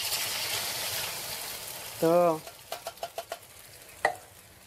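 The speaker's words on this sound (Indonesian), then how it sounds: "Langsung saja goreng biar kelihatan aku dari sini ya" An egg fries in hot oil for crispy Balinese-style telur kembang, giving a steady sizzle that gives way to a few quick stirring taps, with someone speaking briefly.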